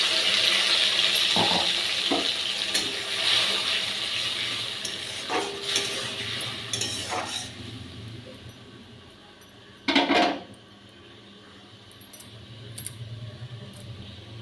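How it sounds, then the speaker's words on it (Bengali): A paste of ginger, green chilli and tomato sizzles steadily in a hot pan for a soyabean posto dish, with scattered metallic clinks and scraping from stirring throughout. "এবার যে আমি পেস্টটা করে রেখেছিলাম আদা কাঁচা লঙ্কা টমেটো, সেটা দিয়ে দিলাম"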